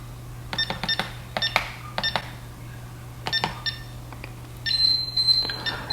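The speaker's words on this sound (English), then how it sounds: "You'll hear the countdown here, and you'll hear the countdown over there coming from the base station." Eufy home alarm system counting down while arming, giving a series of short, sharp electronic beeps in uneven clusters, with a steady low hum beneath and a longer, brighter tone near the end.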